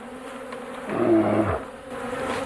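Bees buzzing around beehives, a close droning hum that swells loudly for about half a second in the middle before fading back to a faint background buzz.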